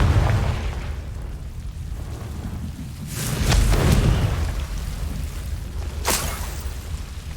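Confringo spell explosion in Hogwarts Legacy: a rumbling boom swelling out of a constant dense game soundscape, with sharp bright crackles flaring around the three- and six-second marks.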